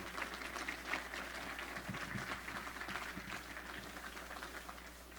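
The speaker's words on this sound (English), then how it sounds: "let's please give them a round of applause for all the hard work that they do" An audience at a chamber of commerce breakfast meeting applauds the town council, a steady wash of many hands clapping at moderate distance in a large room, sustained throughout.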